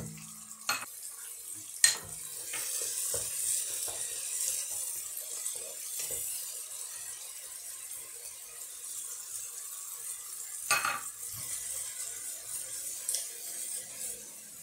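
A sofrito for fish soup sizzles softly in a pot while a spoon stirs and scrapes, with occasional sharp knocks of metal against the cookware.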